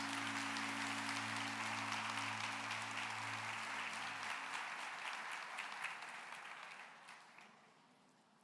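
A church congregation applauding at a Christmas service, broad steady clapping from many hands that gradually thins and fades toward the end, with a low hum beneath.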